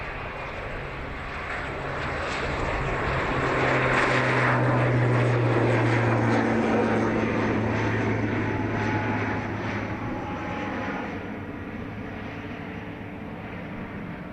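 Heavy aircraft engines roar at Dublin Airport as an Antonov An-124 cargo jet passes, a broad continuous rumble swelling to a peak midway and then easing off into a lower, steady drone.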